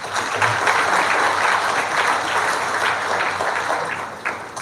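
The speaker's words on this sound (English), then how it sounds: "please, a round of applause." Sustained applause from a lecture-hall audience at a memorial architecture lecture, a steady dense wash of clapping at even loudness for several seconds, fading slightly at the end.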